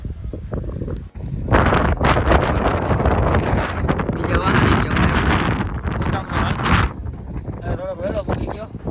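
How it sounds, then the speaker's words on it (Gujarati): Loud, buffeting wind roars against the microphone almost continuously on the Abhapara hills, with a voice partly heard under the rumble. "મારો અવાજ આવે કે નહીં મને ખબર નથી તમને, કારણ કે પવન બહુ વધારે છે"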